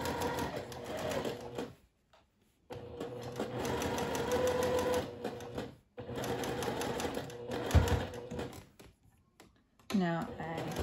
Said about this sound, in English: side of my presser foot up with the left edge of this hem and just sew all the way around